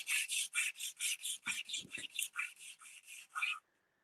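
A flat G10 piece is rubbed back and forth on sandpaper in steady, even strokes, about a dozen close, crisp rasping passes, then a sudden stop into near silence.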